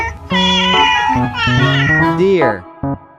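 A cat gives a drawn-out meow with a rising and falling pitch, followed by a short second mew, close and clear.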